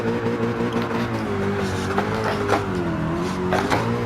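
A D1 race car drifting in Gran Turismo 7, its engine holding a strained, wavering high rev with rising and falling pitch as tires squeal in short bursts, loud and close throughout.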